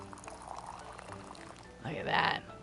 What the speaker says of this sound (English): Perfect pour.